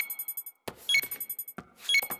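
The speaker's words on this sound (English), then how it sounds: "Why is the computer beeping?" A cartoon library computer gives rapid, repeated electronic beeps in short bursts, broken by a couple of brief scanning chirps, clear and close with no talking over it.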